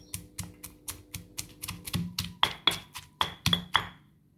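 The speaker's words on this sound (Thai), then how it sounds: "แล้วก็โขกให้ละเอียดเลยครับ" Rapid series of sharp pounding knocks, about a dozen evenly paced hits, some ringing brightly, as a pestle pounds Thai curry paste with torn kaffir lime leaves in a stone mortar up close.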